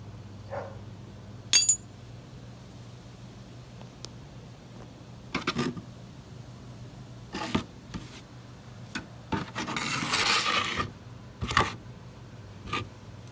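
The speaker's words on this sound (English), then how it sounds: "The drain bolt is a 17 millimeter. So let's go ahead and loosen that up so we can drain this oil out." A wrench works the 17 mm oil drain bolt on a 2002 Yamaha TTR 125, with a few separate metallic clicks and taps and then a longer burst of ratcheting near the end, close and fairly quiet.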